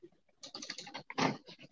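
Someone types a command on a computer keyboard with quick, uneven keystrokes, heard close and clear, ending in a louder burst of key presses, with no speech.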